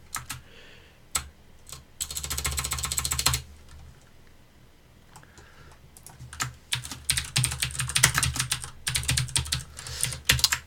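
Rapid bursts of keystrokes clatter on a computer keyboard while code is entered, with fast runs separated by short pauses, close and fairly loud, with no talking.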